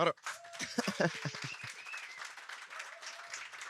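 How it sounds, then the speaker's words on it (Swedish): Applause with cheering rises from a conference audience at Almedalen as Hitachi's Sweden CEO is welcomed on stage, a dense burst of clapping that starts loud and tapers off, with a voice speaking briefly over it. "Oj, med jubel till och med."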